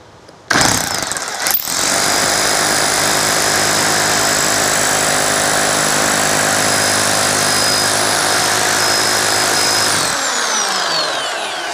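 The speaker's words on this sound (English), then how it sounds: "Now let's see if we can get this to drill." A loud, continuous power drill grinds steadily through brick for about ten seconds after a brief start-up burst, then cuts off abruptly.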